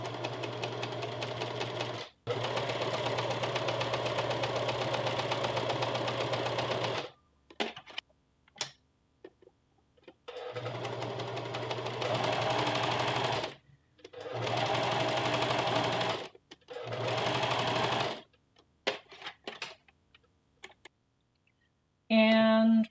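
Sewing machine stitching lines of shirring with elastic thread, running in long steady bursts with short pauses between rows, close and fairly loud.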